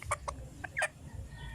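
A chicken with reversed, frizzled feathers on a farm clucking in a few short, quick bursts, faint and somewhat distant over a low background rumble, with no talking.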